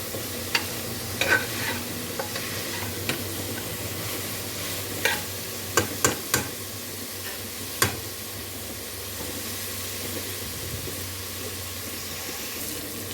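Onions and tomatoes sizzle steadily as they fry in a pan, with occasional scrapes and clinks of a spoon stirring, close and fairly quiet.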